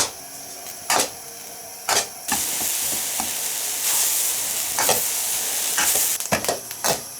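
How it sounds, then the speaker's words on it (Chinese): Sesame seeds stir-fried slowly in a pan over low heat: a steady close sizzle and crackle broken by repeated sharp scraping strokes of the spatula against the pan, with no talking. "小火慢慢的炒，得爆了喷喷的。"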